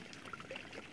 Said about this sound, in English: So it flows down into my pond here.